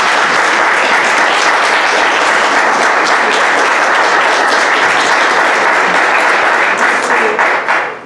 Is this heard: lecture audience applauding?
yes